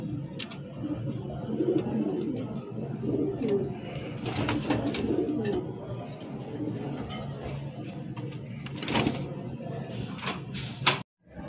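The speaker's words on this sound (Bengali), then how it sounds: "এখন যে কবুতরটা দেখাচ্ছি এটা হচ্ছে সবজি কিং, এটা হচ্ছে নর রানিং" Sobji King male pigeon cooing in a pigeon loft, soft repeated coos over low background noise, with a few sharp clatters standing out.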